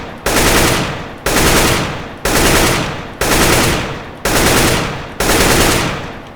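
Six sustained bursts of automatic rifle fire in CS:GO, each a rapid, loud rattle lasting under a second, separated by short pauses and heard alone without talk.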